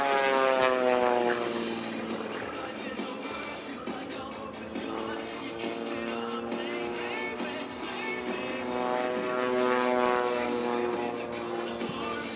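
A light propeller aerobatic air show plane performs over Lakeland, Florida at the Sun 'n Fun show, its engine droning loudly and shifting pitch as it climbs and dives, with a voice talking over it.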